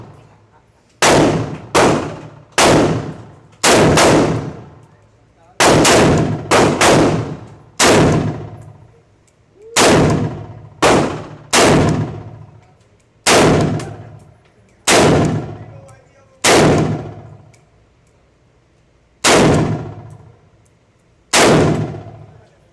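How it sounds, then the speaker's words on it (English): A Draco pistol fires a string of shots at a steel target outdoors: loud, close reports, each followed by a ringing metallic clang, spaced a second or two apart across the string. "So let's see how or what these 10 shots gonna be."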